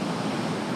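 Steady roar of ocean surf breaking at First Beach near the river mouth by James Island, a continuous loud wash of waves with no voices.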